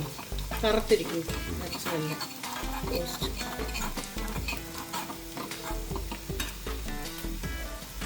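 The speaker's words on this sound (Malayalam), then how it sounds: "പച്ചമണം മാറുന്നവരെ നല്ലതായിട്ട് വഴറ്റിയെടുക്കുകയാണേ" Beef masala sautés in a pan, with a sizzle under frequent clinks and scrapes of a spoon against the metal, partly covered by someone talking and background music.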